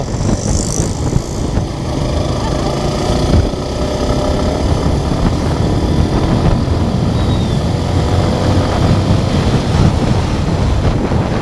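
Suzuki Gixxer SF motorcycle ridden at higher speed on an open road, with a steady, loud roar of wind buffeting the microphone that mostly buries a faint engine drone throughout.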